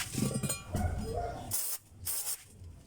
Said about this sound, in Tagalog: Ito yung spray natin, yung kanyang brake cleaner.